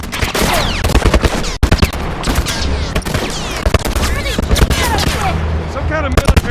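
A military turret in The Last of Us fires in rapid, dense bursts of loud close gunfire, with overlapping shots and a brief pause partway through.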